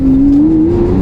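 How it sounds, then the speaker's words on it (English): A Lamborghini Aventador S pulls away fast, its engine droning loud and close. The steady tone climbs gradually in pitch through a short burst of acceleration. "If you need to get going, the car gets going really quick."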